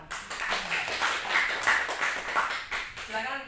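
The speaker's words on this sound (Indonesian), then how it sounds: "tepuk tangan dong." An audience at a university Q&A session in Indonesia breaks into a short, moderately loud burst of scattered clapping, with voices talking over the applause.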